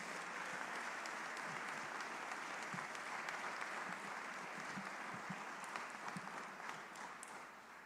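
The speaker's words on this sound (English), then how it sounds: "Can you please give Lily and all these beautiful children a big round of applause?" Distant, faint applause from a rally crowd greeting children on stage, a continuous hiss of many hands with scattered louder claps, steady throughout and fading slightly at the end.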